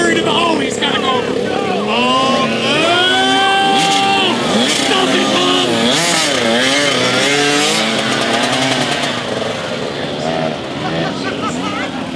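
At a mini monsters championship race, a small racing motor revs up and down repeatedly, loud and close, the pitch swooping between quick rises and falls.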